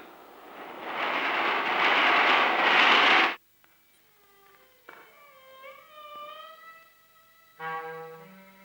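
A train runs with a loud, steady rumble for about three seconds in an old Malayalam film scene, then cuts off abruptly and is followed by quieter voices and tonal sounds.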